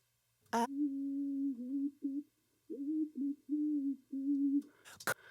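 A muffled, boxy-sounding R&B singing voice, soloed with a boost around 300 Hz, carries a sustained melody in phrases with short gaps, the tone dull and narrow, with a click at the start and end.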